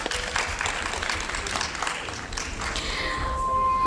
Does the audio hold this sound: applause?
yes